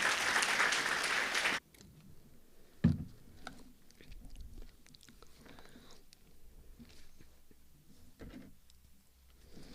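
Loud audience applause fills a church service welcoming a visiting South Korean pastor, then cuts off abruptly after about a second and a half, leaving a quieter room with scattered thumps and shuffling.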